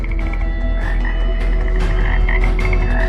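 Frogs croak loudly and continuously, several calls overlapping in a dense, rhythmic chorus over a low steady hum.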